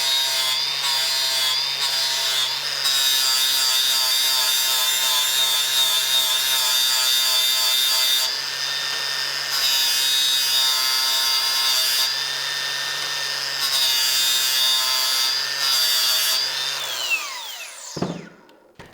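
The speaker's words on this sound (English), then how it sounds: "I use a Scotch-Brite disc on my angle grinder to polish the face and the peen" An angle grinder fitted with a Scotch-Brite disc polishes the face and peen of a forged cross peen hammer head, a loud continuous whine with shifting pitch and texture for many seconds before spinning down at the end.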